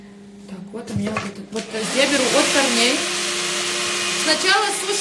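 A hair dryer blows steadily at a woman's hair roots, a continuous broadband whoosh close by, with someone talking over it throughout.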